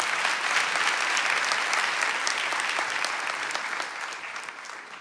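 A concert crowd at a launch show applauds the pianist after a piano solo, a thick, even wash of clapping from many hands that gradually thins and fades toward the end.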